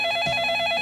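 A telephone rings with a steady electronic warble, close and clear, filling a short burst with no voices.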